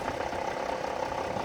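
An Infiniti G37S fitted with a full Exedy clutch kit and lightweight flywheel idles close by, giving a steady, rough, rattling drone with no voices.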